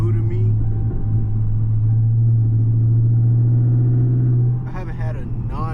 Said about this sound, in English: I haven't had a non-cracked exhaust for so long.